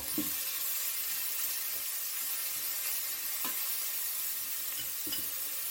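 Two onions frying in ghee for an Indian coriander and lemon soup, a soft continuous sizzle with a few light stirring taps.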